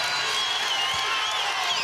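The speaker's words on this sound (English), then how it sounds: "Marshall crowd coming alive" A home crowd cheers and roars at a Marshall women's basketball game against Coastal Carolina after a tying three-pointer, a steady, loud wash of arena noise that stays constant without any clear voices.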